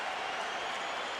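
A boxing arena crowd roars between rounds, a brief wash of distant cheering and scattered applause with no clear voice on top.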